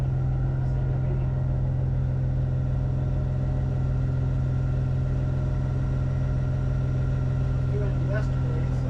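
A boat engine runs at a steady, droning idle while its transmission, which may not be shifting into gear, is checked, with voices faintly beneath the hum.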